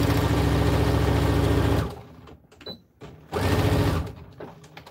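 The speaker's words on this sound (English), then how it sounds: "See how you just sewed, connecting the dots?" A sewing machine stitches a fabric bowl cozy in two loud, close runs of rapid mechanical whirring, separated by a brief quiet pause.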